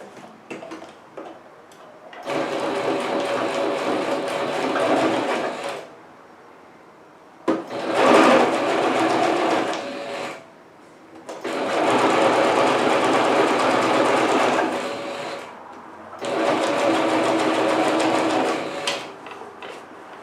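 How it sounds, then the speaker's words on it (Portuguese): A sewing machine stitches a fabric cover for a vaccination card in long steady runs of fast, even mechanical whirring and ticking, stopping and restarting several times with quiet gaps between bursts. "eu começo a costura desde aqui do começo com retrocesso"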